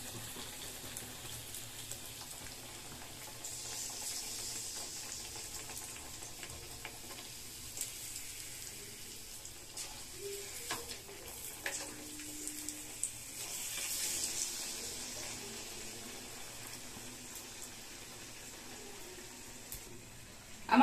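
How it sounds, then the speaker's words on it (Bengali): Snacks frying in hot oil on a gas stove, a low steady sizzle throughout with occasional soft clinks and stirring noises, no talk. "এবার আমি এটাকে তেলের মধ্যে দিয়ে ভেজে নেব।"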